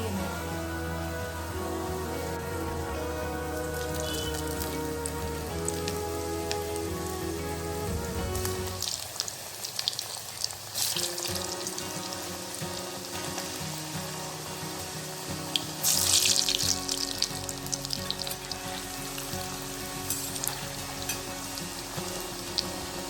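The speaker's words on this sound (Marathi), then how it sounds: "आता ती मी तळून घेणार आहे छान कुरकुरीत एका कढईमध्ये तेल गरम करायला ठेवलेलं आहे" Kothimbir vadi, crisp coriander fritters, frying over low heat in hot oil in a kadhai, giving a steady crackling sizzle throughout, with a brief louder spattering burst midway and no talking.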